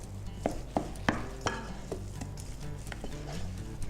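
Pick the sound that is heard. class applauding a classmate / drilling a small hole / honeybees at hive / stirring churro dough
stirring churro dough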